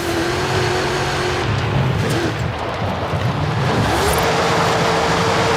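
A video game racing car engine roars steadily, its pitch dropping and then climbing again as it downshifts, loud and continuous.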